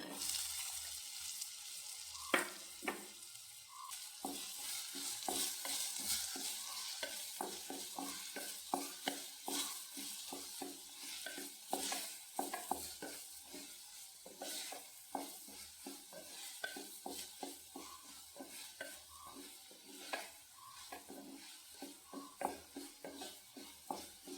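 Sliced onion fries with turmeric and chili powder in a pan, giving a continuous quiet sizzle with frequent stirring scrapes and taps that carry on for over twenty seconds.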